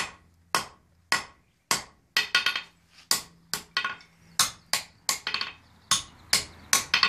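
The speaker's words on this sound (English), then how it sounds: "I'm drawing it out a little bit at a time with the edge of my hammer" A blacksmith hammers hot metal on an anvil, drawing it out with the edge of the hammer: sharp, ringing blows in a steady rhythm, some doubled as bounces, loud and close with no talk.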